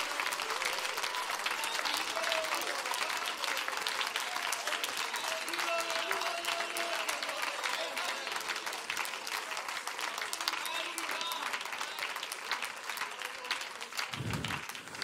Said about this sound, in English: Somebody clap your hands and engage him right now.